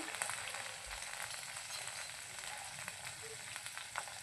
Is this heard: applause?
no